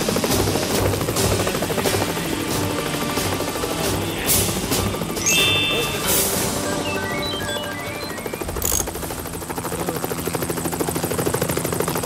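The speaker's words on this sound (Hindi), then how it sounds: "मिस्टर चमकू ने अपने टूटे फूटे हेलीकॉप्टर को जोड़ तोड़ के उड़ने वाला बना ही लिया" A broken-down cartoon helicopter, patched together, flies with a loud, steady whirring rotor that runs throughout, with a few brief clattering bursts along the way.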